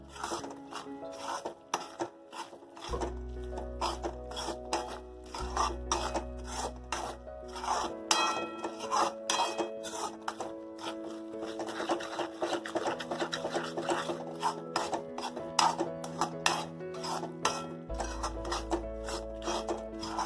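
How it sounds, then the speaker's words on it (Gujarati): Jaggery stirred in a pan until it melts for a Raaj Paak sweet, making a steady rasping scrape of spoon against pan that repeats in quick strokes throughout, close and moderately loud, alone with a low background hum underneath. "ગોળ નાખી ગોળ ઓગળે ત્યાં સુધી આપણે એમાં હલાવતા રહેશું"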